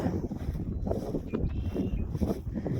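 Steady low wind rumble buffets the microphone throughout, a continuous blustery roar with no talking.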